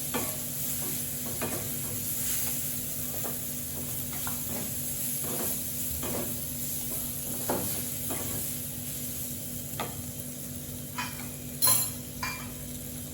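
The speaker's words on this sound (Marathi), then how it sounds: "त्या तेल मसाल्यामध्ये चांगले परतून घ्यायच्या." Soft sizzling of cluster beans frying in oil and spice masala in a pan, with intermittent scraping and stirring clicks of a utensil; no talking.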